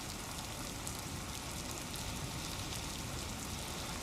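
Heavy rain falls steadily during flooding in Jaipur, a dense continuous hiss of drops on surfaces, even and unbroken throughout, with no voices.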